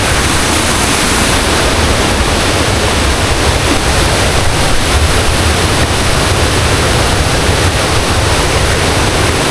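Bega Falls pours in a dense, constant roar of falling water, loud and close, unbroken and with no voices.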